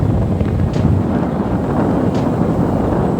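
Strong wind buffets the microphone in a constant roaring rush, loud and close, with no voices, at an outdoor spot in Pililla, Rizal, Philippines.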